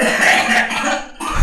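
A single harsh, loud cough right after a jumpscare in a horror game, close to the microphone, briefly rasping then stopping.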